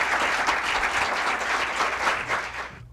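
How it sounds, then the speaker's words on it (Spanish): Audience applause for the tenor Enrique Pina at a lecture on art in diplomacy, a dense steady clapping from a full room that holds for nearly three seconds, then drops off abruptly. "Un fuerte aplauso para él"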